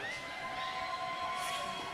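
Fans at a trans visibility sports match cheer and shout together. The crowd noise is steady and moderately loud, with whoops rising above it, and no single voice stands out.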